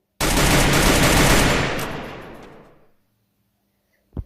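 An enemy's automatic weapon in a shooter video game fires one long, loud, rapid burst lasting a few seconds, then cuts to silence before a brief sharp click at the end.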